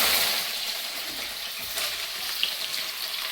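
Chopped green chillies and curry leaves fry in hot oil with a continuous crackling sizzle, close and even, carrying a few faint pops and light stirring touches.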